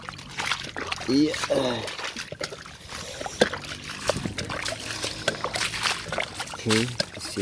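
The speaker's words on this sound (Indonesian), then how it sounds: "mari kita selesaikan siram menyiramnya" Water pours and splashes in short bursts onto sunflower and chili plants while people talk over it nearby.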